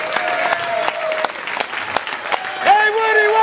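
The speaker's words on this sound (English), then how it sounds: "Give yourselves a really good applause" A concert audience applauds after a rock performance of a song, loud clapping with sharp individual claps over a sustained crowd wash, while a voice speaks and sings over it through the latter half.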